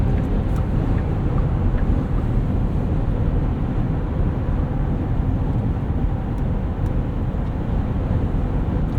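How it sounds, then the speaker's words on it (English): Steady, low broadband road and engine rumble fills the cabin of a 2024 Porsche Cayenne E-Hybrid cruising at speed, an even, unbroken drone with little wind hiss and no talking. "Pretty quiet at speed, not a lot of wind noise."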